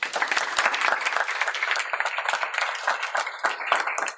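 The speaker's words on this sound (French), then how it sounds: "je vous invite à applaudir chaleureusement Michel" A seated audience at a finance club talk applauding warmly, a lively patter of individual claps from a modest crowd, fairly close, continuing steadily before tapering slightly at the end.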